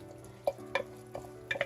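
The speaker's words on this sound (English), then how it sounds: "So let's give that a stir." A spoon stirring salted Toloo beef oil rice in a pot, a few soft scrapes and clinks against the pot over a faint background hum, close and brief.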